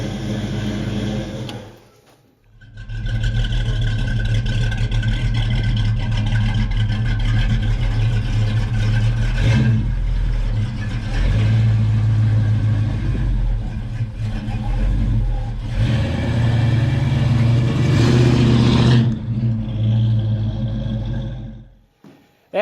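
A used car's cold-blooded engine runs steadily and loud up close, with a brief dip before settling into a sustained idle and a couple of swelling revs that rise and fall before cutting out.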